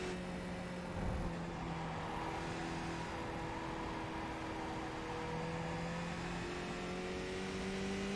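A race car engine in a racing video game hums with a steady, sustained tone at low level, with faint rising whines suggesting revving through gears, no voices present.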